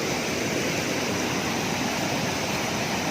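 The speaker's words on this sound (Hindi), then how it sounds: "ये पीछे से पानी आ रहा है" Muddy rainwater rushes and gushes continuously down a hiking trail at close range, a dense, even roar with no pauses.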